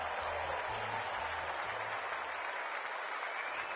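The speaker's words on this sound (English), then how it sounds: "The crowd already making plenty of noise as the captains come together." Stadium crowd at a VFL football match, Port Melbourne versus St Kilda, making a steady, loud wash of cheering and applause as the captains meet before the game, with no talk over it.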